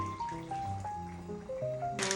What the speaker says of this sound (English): Filled up about half can of water. I am going to pour it in there.